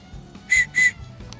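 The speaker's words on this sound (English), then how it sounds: "Now here's the whistle that works better." A handheld whistle from a Bigfoot-hunting kit gives two short, shrill blasts in quick succession, close and loud against quiet background noise.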